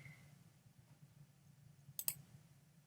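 A computer mouse clicks twice in quick succession while saving a file, two sharp, close taps over a quiet background hum.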